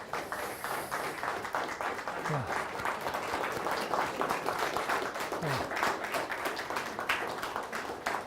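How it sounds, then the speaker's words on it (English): Audience applause at an evening philosophy lecture event, steady clapping throughout with a short spoken interjection and some talk over it. "please give a round of applause"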